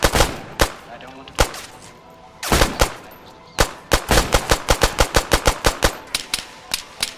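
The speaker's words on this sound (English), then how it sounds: "how many shots does that guy take?" Video game gunfire rings out in sharp, loud single shots, then a rapid burst of evenly spaced automatic fire near the end, with faint talk underneath.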